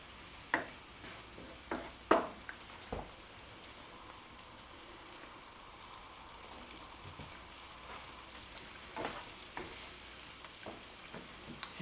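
Roughly four tablespoons of minced garlic frying in a pan with chicken for a garlic lemon dish, giving a soft steady sizzle with a few sharp clanks and stirring knocks from utensils near the start.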